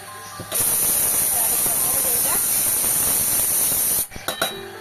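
A pressure cooker holding chana dal lets out a loud, steady jet of hissing steam for several seconds before it cuts off abruptly, followed by a few brief clatters.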